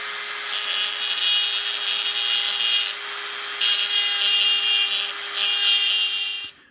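A Dremel rotary tool grinds and blends the extended magwell on a CZ Tactical Sport Orange pistol, a loud high whine rising and falling in three bursts with brief lighter pauses between them.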